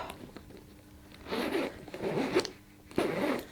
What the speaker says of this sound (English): It has got a wonderful zip.